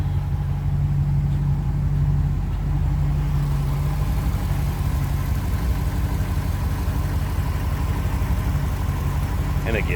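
A 1990 Chevrolet Corvette ZR1's V8 engine idles with a deep, smooth steady rumble, close and continuous, with a faint higher hum over the low drone.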